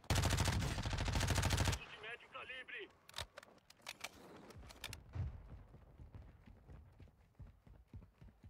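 A video game firefight opens with a dense, loud burst of rapid automatic gunfire lasting nearly two seconds, followed by scattered single shots and impacts under game radio chatter and voices.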